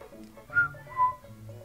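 A person with dry lips attempts to whistle, producing two short, breathy, airy whistle tones in close succession, faint and close with little else around.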